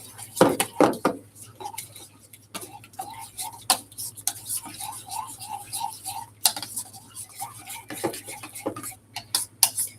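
Fruit mixed in a bowl with a utensil, producing repeated clinks and taps against the dish in an uneven rhythm, some quick and bunched, close to the microphone.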